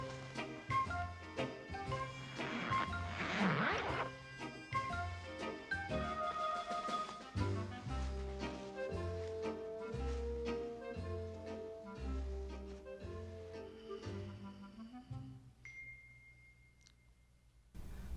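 Theme music from the film The Ghost and Mr. Chicken plays as an instrumental passage, with a steady bass pulse under chiming melodic notes that thins out toward the end, and no talking.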